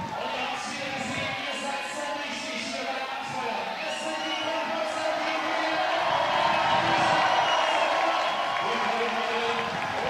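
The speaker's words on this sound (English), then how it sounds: "The crowd goes wild to that." A crowd at a climbing competition finals cheers and whoops in a sustained wave that swells toward the end, with a commentator talking over it.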